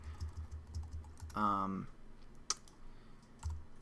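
Typing on a computer keyboard during Android app programming, a run of quick, soft, evenly spaced key taps at close range, followed by a brief spoken word and a couple of isolated clicks.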